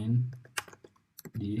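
Keys tapped on a computer keyboard during a penetration-testing lab, a few quick close clicks between bursts of talk.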